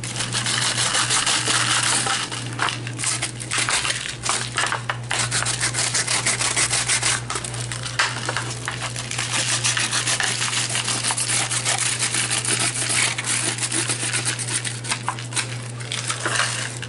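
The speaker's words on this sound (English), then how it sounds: "I just wanna go around the edges of this with the sandpaper" Sandpaper is rubbed steadily around the edges of a handmade card built from old packaging. The scratchy rasping is close and continuous, with a low steady hum underneath.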